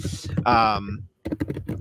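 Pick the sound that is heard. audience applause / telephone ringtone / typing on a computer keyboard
typing on a computer keyboard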